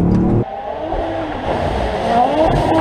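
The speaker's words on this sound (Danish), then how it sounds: "prøver lige at høre den der turbolyd der, Leonor, så lige slap af." A Toyota GR Yaris engine with turbo revs hard and continuously, a loud rising and falling roar with a brief low thump near the start, heard close up.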